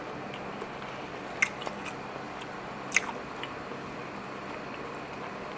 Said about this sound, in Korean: 파를 좀 넉넉히 해가지고 먹어볼게요.